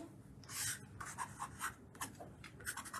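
Pencil shading on Pastelmat paper, a run of soft, close scratchy strokes in short bursts of rubbing against the textured sheet, heard alone with no talk.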